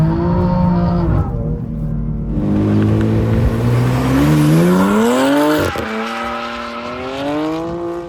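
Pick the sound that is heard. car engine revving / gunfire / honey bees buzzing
car engine revving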